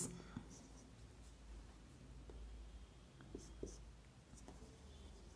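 A pen writes notes by hand, giving soft, faint scratching strokes with a few light taps, close to the microphone over a low background hum, with quiet murmuring nearby.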